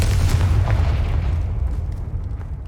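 A Confringo blasting spell explodes in Hogwarts Legacy, a loud, deep boom that rolls out and fades over a couple of seconds with crackling debris tailing off.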